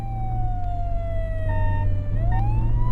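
An ambulance siren in the video game Flashing Lights wails loudly and steadily, its tone sliding slowly downward before rising again, over a constant low engine hum with no talking.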